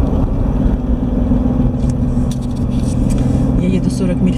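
Car cruising at 40 mph on a Florida road near Lake Jessup and Sanford airport, a steady loud engine and tyre rumble filling the whole stretch without a break.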